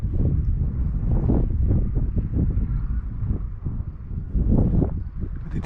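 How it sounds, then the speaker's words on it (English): Strong wind blowing across a hillside slope used for gliding, heavy low buffeting gusts on the microphone that rise and fall throughout. "today it's too windy, a little bit too windy"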